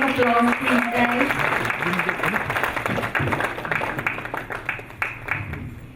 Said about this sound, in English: Round of applause, please, guys.